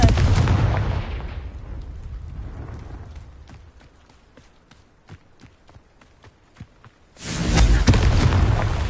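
Confringo blasting spell going off in the video game Hogwarts Legacy: a loud explosive roar fades over several seconds into a string of sharp footstep-like taps, then another heavy blast erupts near the end.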